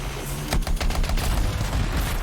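Combat in the video game Anthem brings loud, dense bursts of rapid gunfire mixed with booming blasts, a continuous close barrage with no talking.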